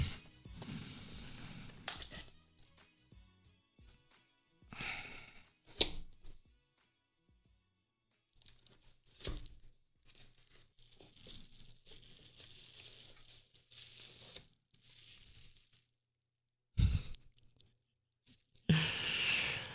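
Packaging for a Nikon ZR camera is handled during unboxing: scattered crinkles, crunches and tearing of cardboard and plastic come in separate bursts between quiet gaps, close and fairly soft.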